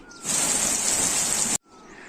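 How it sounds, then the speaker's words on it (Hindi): Heavy rain pours onto a freshly ploughed farm field in a days-long downpour, a dense, loud hiss that starts abruptly, holds steady, then cuts off and returns faintly. "और लगातार बारिश हो रही है 4-5-6 दिन से।"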